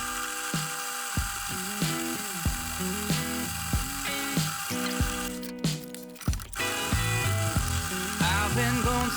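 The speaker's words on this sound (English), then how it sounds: "let's drill those out" A power drill whines in repeated short bursts, stopping and starting as it drills clearance holes in metal for an iMac wall mount, with a few clanks in between.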